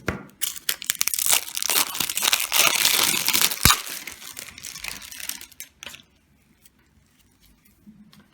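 Plastic packaging around black nylon bead thread being opened, loud crinkling and tearing for about six seconds, then fading into near silence.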